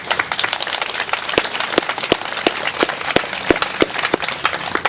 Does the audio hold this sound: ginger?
no